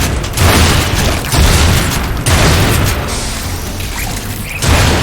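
Loud gunfire in the sci-fi shooter Lost Planet 3: dense, booming bursts of shots with heavy low thumps, close and continuous, easing slightly before a final surge.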